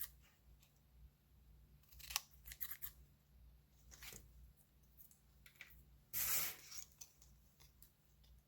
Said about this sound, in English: you want to run your scissor right along the edge of the plastic and trim all the excess